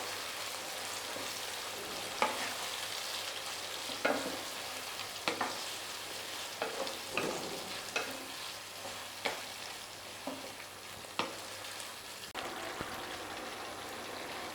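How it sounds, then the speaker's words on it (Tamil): Tomato pickle ingredients being stirred in a pan, with a steady soft sizzle of frying throughout and regular scraping stir strokes every second or so; no voices. "இப்போ இதை எல்லாத்தையும் நல்லா மிக்ஸ் பண்ணி விட்டுக்கோங்க."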